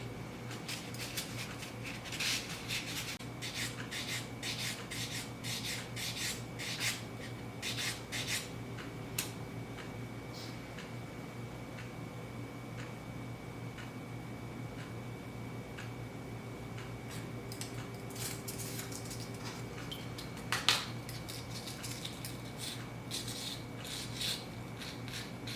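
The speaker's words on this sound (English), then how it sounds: "this is 600 grit sandpaper." Steady rasping rub of 600 grit sandpaper working a Chief Red Cloud coin ring, continuous and close with faint ticking strokes, alone without talk, a brief sharper scrape near the end.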